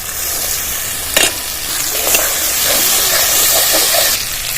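Spice paste frying in a pan for a vegetarian cauliflower roast, with melon seed paste added: a steady close sizzle and hiss throughout, broken by a couple of sharp stirring scrapes and soft bubbling pops.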